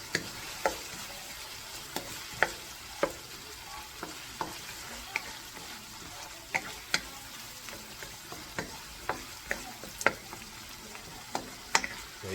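Meatball spaghetti sauce stirred in a pan, with a soft continuous bubbling sizzle and many sharp spoon taps and scrapes at irregular intervals, fairly quiet and close, no voices.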